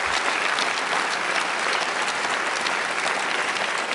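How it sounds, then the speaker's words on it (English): Steady, full audience applause fills a party conference hall, continuous dense clapping from a large crowd held at even loudness throughout. "somebody will clip that as a round of applause"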